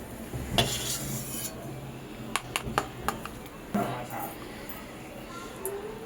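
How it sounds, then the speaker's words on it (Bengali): Fried cashews and raisins being scooped from a kadai into a bowl for basanti pulao, giving sharp metallic spoon taps and scrapes against the pan over a steady background hiss, with a voice talking at times. "কাজু কিশমিশটা ভাজা হয়ে গেছে, এবার একটা বাটিতে এগুলোকে তুলে নেওয়া হচ্ছে"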